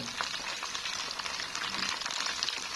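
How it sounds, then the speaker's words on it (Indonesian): Food frying half-done in a pan of hot oil, a steady dense sizzle and crackle that holds at an even level throughout with no talking. "Aku goreng setengah matang aja."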